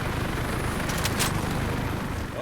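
A helicopter in the shooter game Warface drones steadily with a dense rotor wash, loud and continuous throughout, with no talking over it.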